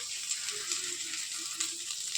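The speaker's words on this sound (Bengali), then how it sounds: "ডিম ভাজা হচ্ছে" Eggs sizzling in a pan for a double-egg omelette, a soft, steady frying crackle heard fairly quietly on its own without talk.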